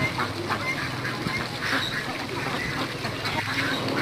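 Domestic ducks dabble and feed on greens tossed into water, with steady quacking and splashy, muddled noise throughout, fairly close and busy.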